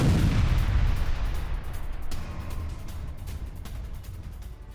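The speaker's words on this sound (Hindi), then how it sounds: "रॉकेट लॉन्चर साइट पर गिरा बॉम्ब।" A bomb from an air strike hits a Hamas rocket launcher site: a heavy deep boom at the start rolls into a long fading rumble with scattered crackles, distant-sounding and without speech.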